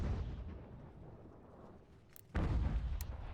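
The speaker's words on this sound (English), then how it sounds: "They're retreating in the face of artillery" Artillery fire in the Ultimate General: American Revolution video game, a steady low rumbling barrage of cannon booms that drops off briefly and then surges louder again near the end, with no talking.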